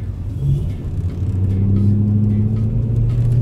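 A BMW E92 M3 coupé with a 420 PS engine pulls away, its deep exhaust rumble rising steadily in pitch as it accelerates, loud and close throughout.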